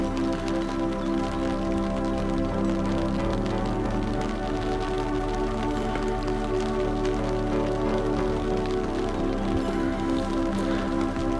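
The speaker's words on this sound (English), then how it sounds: "Let's hope the rain go off in a little while." Steady rain pattering on surfaces at a fishing spot, a dense, continuous hiss with scattered drop taps, close and even throughout with no talk.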